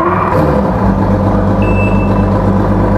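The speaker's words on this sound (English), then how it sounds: "you're going to get that beep when you start it first of every time" A loud, rumbling 2013 Evinrude E-TEC 200 HP outboard engine starts and runs steadily up close, and a thin high-pitched electronic start-up beep sounds midway over the motor noise.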